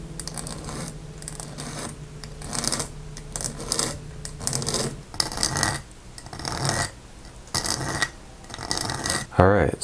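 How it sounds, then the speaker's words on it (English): Repeated rasping strokes of a hand file on a metal cross pin, a rhythmic scraping pattern with brief pauses between passes, fairly close. "So you can hear when it's filing the paper and you can also feel it."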